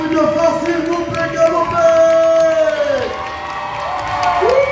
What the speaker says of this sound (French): Les applaudissements forts, s'il vous plaît